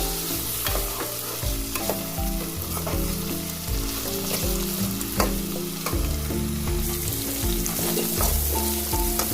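Peas and carrots fry in hot oil with a steady, close sizzle while a utensil stirs and scrapes through them in repeated strokes, with no voices.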